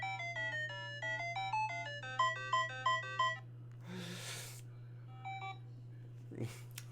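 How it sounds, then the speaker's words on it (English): A phone ringtone plays a bright, quick melodic pattern of electronic notes from an anime theme song for about three seconds, followed by scattered faint beeps and noise bursts over a steady low hum. "That's my ringtone."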